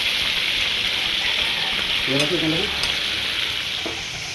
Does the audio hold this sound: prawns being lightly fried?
yes